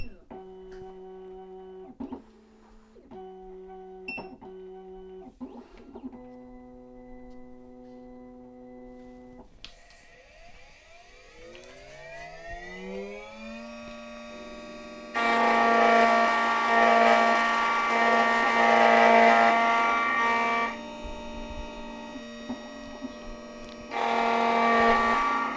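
A Black Widow key machine cuts a Y11 key on the S2 clamp: whining motor tones and shifting pitches give way to a loud, harsh grinding cut in two bursts, with speech at times.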